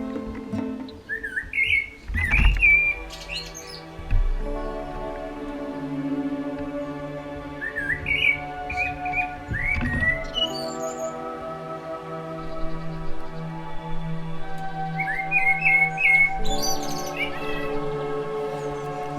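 Small garden birds at a seed feeder chirp and whistle right beside a GoPro camera, sending out bright bursts of clear calls in clusters separated by short pauses.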